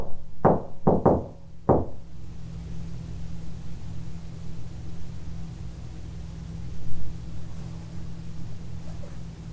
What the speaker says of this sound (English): Okay, so I'm going to knock on the wall. I'm going to play the shave and a haircut game.